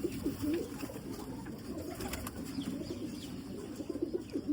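Piplan pigeons at a Lahore pigeon loft give soft, repeated throaty coos over a busy background, with occasional wing flutters and nearby bird chatter.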